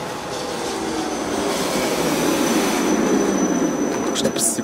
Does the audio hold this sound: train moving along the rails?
yes